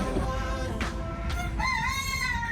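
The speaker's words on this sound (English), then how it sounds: "There's chickens everywhere, guys." A rooster crows once near Lanikai Beach on Oahu, Hawaii, a loud, clear, drawn-out call rising after a brief scratchy lead-in, close by over steady outdoor background noise.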